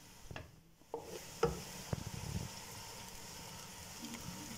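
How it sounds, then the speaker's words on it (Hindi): Onions frying in a pan until golden, ahead of meat being added for an Eid dish: a soft steady sizzle with a few stirring scrapes and clicks near the start, fairly quiet and close, with no voices. "यहाँ प्याज गोल्डन फ्राई होना स्टार्ट हो गए हैं।"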